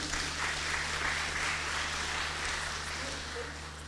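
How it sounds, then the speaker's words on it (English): Kindergarten graduation ceremony audience at Oshwal Academy Mombasa clapping for a graduate as she comes forward, steady even applause filling the whole stretch, fading a little at the end, with a low steady hum beneath. "Clap for her as she comes."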